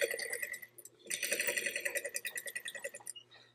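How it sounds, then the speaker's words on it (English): Sewing machine stitching a seam along an ironed crease in drapery fabric, a rapid mechanical rattle that runs in a loud continuous burst, then ends in a few slower separate pulses. "At the sewing machine, we're going to stitch right where we've ironed."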